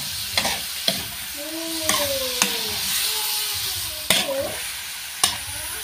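Pork adobo sizzles in oil and soy sauce as it is stirred in a pan, with a steady hiss under sharp scraping and clinking strokes. A faint whistling tone drifts through the middle of the clip.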